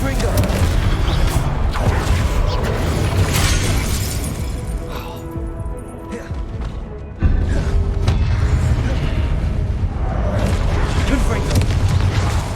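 Explosive Confringo spell blasts boom repeatedly in a Harry Potter wizarding video game, loud crashing bursts with rumbling debris, broken by a brief quieter lull before another heavy blast hits.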